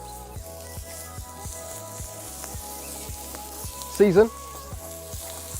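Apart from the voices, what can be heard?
beef mince sizzling on Kadai live-fire bowl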